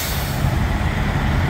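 A large truck rumbles close by with a loud, steady broadband engine and air noise that holds evenly throughout, with no voices.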